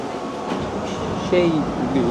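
Interior of a Japanese passenger train in motion, with a steady low rumble and hiss of running gear under the carriage and a couple of brief tonal squeals near the end.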